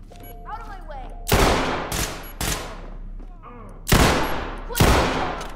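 Sharp, loud gunshots from the tactical shooter game Ready Or Not on a hospital level: five blasts in uneven pairs and singles, each with a ringing decay, over a low background with faint voices.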